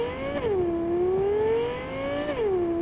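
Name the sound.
sports car engine revving in a video game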